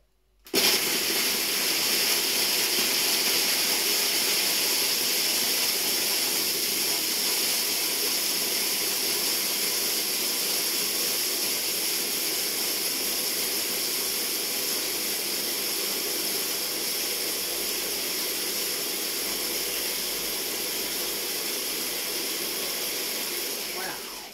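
A dough-mixing machine runs loud and steady, a continuous broadband whirring roar with airy hiss that starts abruptly and holds without a break to the end.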